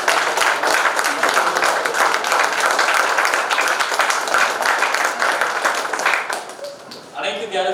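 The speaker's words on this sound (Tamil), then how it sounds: "இன்னொரு ஒரு பெரிய பலத்தை கைத்தட்ட" A crowd claps steadily for several seconds in dense, sustained applause, which then tapers off as a voice begins to speak.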